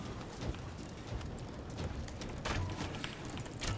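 Horse hooves clip-clop faintly in the medieval battle game Conqueror's Blade, an uneven run of soft thuds mixed into background game noise, with no one speaking.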